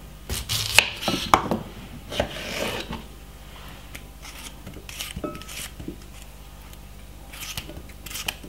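A very sharp knife chops cucumber on a board, a few crisp close cuts early followed by quieter, scattered slicing and scraping sounds.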